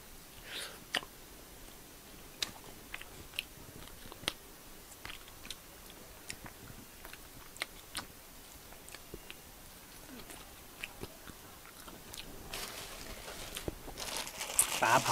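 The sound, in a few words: chewing grilled fish with sticky rice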